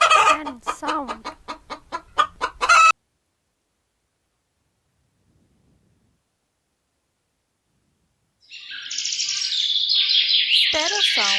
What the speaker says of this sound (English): Hen sound.